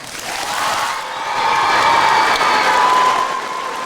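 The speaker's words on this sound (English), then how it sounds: "let's give them a loud and motivated round of applause" A school crowd at a high school Veterans Day ceremony bursts into applause, cheering and whoops for the veterans, swelling after a moment and holding strong before easing off.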